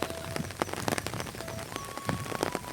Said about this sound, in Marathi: पाऊस पडा लागलाय पावसानं लावली हजेरी